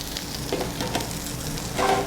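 Shrimp sizzle steadily in a hot pan as garlic goes in, a loud, close hiss with a few small pops and stirring scrapes.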